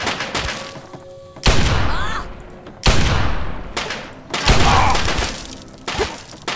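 Pistol fire in Fallout 3 crackles in several heavy bursts of overlapping shots, with loud impacts about every second and a half and brief quieter gaps between volleys.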